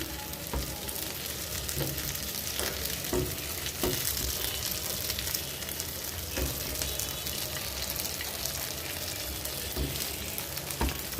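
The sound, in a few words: fish frying in a wok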